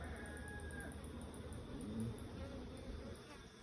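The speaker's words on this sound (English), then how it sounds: "put them in, and the bees feed on them" A soft, steady buzzing of many bees at a very small colony feeding on cut bananas hums continuously close by, with the faint whine of individual insects passing.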